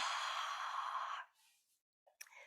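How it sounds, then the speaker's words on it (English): A long, breathy ujjayi exhale through a narrowed throat, like fogging a mirror, hisses steadily for over a second, then fades into softer breaths and a faint click. "ujjayi breathing is simply that narrowing in the throat and breathing and making a little sound"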